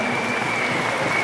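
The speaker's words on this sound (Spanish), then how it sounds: "Un aplauso para todos ustedes" Crowd applause at a municipal gathering in Santander, a brief, dense, steady wash of clapping with no clear voices.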